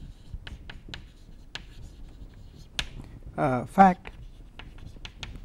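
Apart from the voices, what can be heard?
writing by hand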